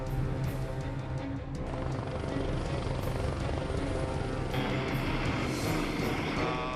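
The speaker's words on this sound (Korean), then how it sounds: "신호를 향해 헬기가 도착했다" A rescue helicopter arrives at a mountain accident site on Gwanaksan, its rotor beating loud and close with a continuous heavy thrum and chopping pulses throughout.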